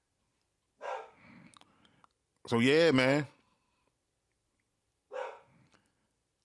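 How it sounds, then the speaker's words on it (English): A dog barks indoors in a room, one sharp, loud, tonal burst in the middle, with someone speaking briefly before and after it. "The dog is barking."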